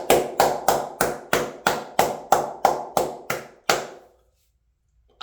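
Ten slow, sharp hand claps ring out close and evenly spaced, then silence, and one more clap begins right at the end.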